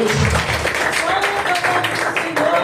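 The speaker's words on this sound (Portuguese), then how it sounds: "Aplauda Jesus nessa noite." A church congregation applauds steadily during an evening worship service, dense continuous clapping mixed with voices calling out.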